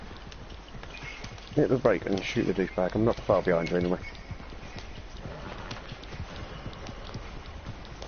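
Horses galloping in Red Dead Redemption 2 give a steady clip-clop of hooves under the whole stretch, while someone talks loudly over the middle part.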